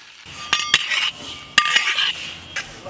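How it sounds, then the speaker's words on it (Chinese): Black and white sesame seeds stir-fried in a wok, with a metal spatula clinking and scraping against the pan in a few sharp strikes over a steady dry rustle; no voices. "再炒一点黑白芝麻"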